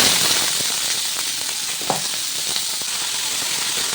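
Cabbage leaves and pumpkin skin fry in hot oil with garlic, giving a steady, close sizzle that runs the whole time, with a few soft stirring clicks and no voices.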